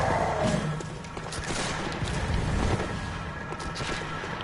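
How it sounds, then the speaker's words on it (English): Gunfire in the Bloodborne video game, heard as a dense, steady wash of distant-sounding shots and thuds that runs through the whole stretch, with no talk over it. "Bullets, if you're paying attention to where they're coming, are usually pretty easy to dodge out of the way of."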